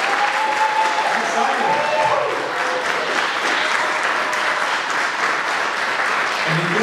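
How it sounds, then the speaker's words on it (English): An audience at a fall graduation ceremony claps steadily for the graduates, a dense, sustained applause with a few voices and cheers mixed in. "if everybody could give a round of applause for these graduates."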